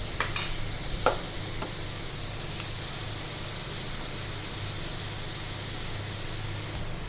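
Tindora (ivy gourd) frying and crisping in a pan, a steady close sizzle with a few scrapes of stirring near the start and a low hum beneath.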